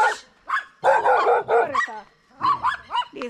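Dogs on a street during budget backpacking travel bark loudly and close by in several excited bursts, with yips in between and short pauses.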